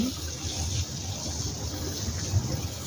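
Steady rushing water from a hose in a garage runs continuously throughout, a broad hiss with low rumble, fairly close and even in level.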